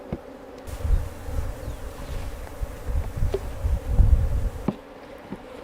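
A honeybee swarm hums at the hive as frames are returned to it. The dense buzzing rises and falls close by, with a few small knocks mixed in.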